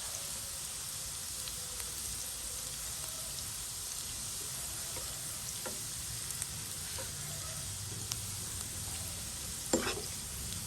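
Onions browning in a pan for a Noakhali-style Bombay duck dish, giving off a steady, faint, continuous sizzle with a few small pops and light stirring noises, no talking.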